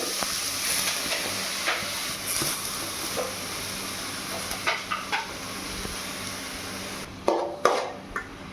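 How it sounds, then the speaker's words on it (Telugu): Grated bottle gourd fries in ghee in a pan, a soft continuous sizzle broken by occasional scraping clinks and a few sharper knocks toward the end, no talking. "నెయ్యి వేసాను కదండి సో కొద్దిసేపు అలాగా ఫ్రై లాగా చేసేసుకుందాము నెయ్యిలో బాగా వేయించుకోవాలి"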